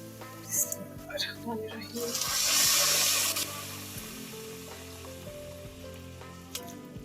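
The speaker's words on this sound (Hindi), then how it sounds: "तो अब मैं इसके अंदर वो जो मैंने पहले चीनी पानी बनाया था वो इसके अंदर डाल दूँगी।" Sugar water poured into roasting flour in a pan for chakwali halwa, setting off a loud hissing sizzle that swells and then settles into steady frying crackle.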